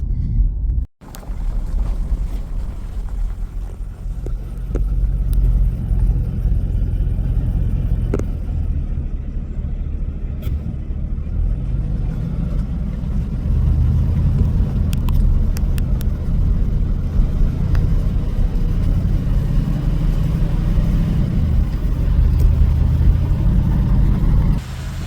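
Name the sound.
vintage motorcycles riding on dusty roads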